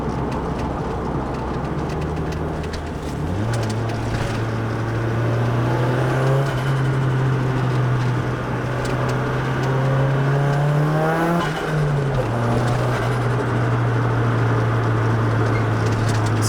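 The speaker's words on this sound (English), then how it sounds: "We should have a pretty good recording of those boost sounds" A Nissan 180SX Type X turbo engine revs up steadily and holds a loud, rising drone, sweeping higher near the end before dropping back, with no talking over it.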